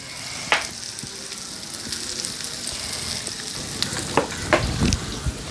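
Curry leaves frying in hot oil give a steady, close sizzle with a few louder pops and crackles near the end; no voices are heard.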